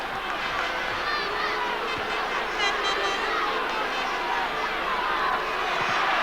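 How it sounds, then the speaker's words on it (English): Cavan supporters roar and cheer steadily at a 1998 Ulster semi-final Gaelic football match against Donegal, a dense crowd wash filling the stadium throughout. "The Cavan crowd begin to get behind their side."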